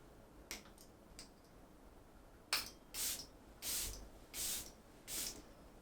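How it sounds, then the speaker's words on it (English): A perfumed makeup setting spray is pumped five times in quick succession, each a short, crisp hiss close to the mic in a quiet room, preceded by a few faint clicks. "Going to spray."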